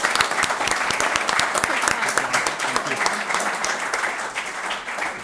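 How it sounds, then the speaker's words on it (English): Audience at a town election candidates forum in Northborough claps for the candidates, with a loud, continuous round of applause of many hands, crisp individual claps standing out through the steady wash. "I'd like to give a nice round of applause to all of the candidates up here"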